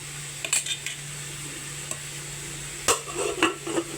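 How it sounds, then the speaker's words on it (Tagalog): Pork with soy sauce and pork cube stirred in a pan, a few scattered utensil scrapes and knocks over a quiet steady hum, with a sharper clatter near the end. "Paglalagay ng toyo at pork cube, haluin."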